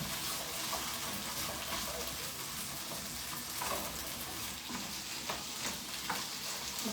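Beef for caldereta fries in a pan with a steady, soft crackling sizzle and occasional stirring scrapes, heard faintly and continuously for about seven seconds.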